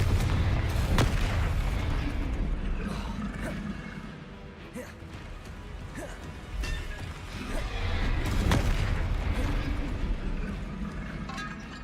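Hogwarts Legacy Confringo fire spell explosions, repeated booming blasts with sharp transients over a dense rumbling game soundscape, loud and close, several hits across the span with a brief lull in the middle.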